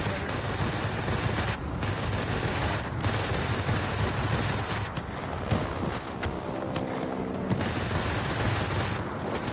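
Aircraft machine guns fire repeatedly at an enemy fighter during a World of Warplanes air battle, rapid bursts over a steady loud engine drone throughout.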